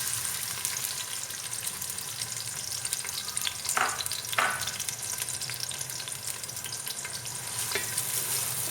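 Steady sizzling of onions frying in a hot pan, with a few brief louder crackles and stirring scrapes near the middle; no talking.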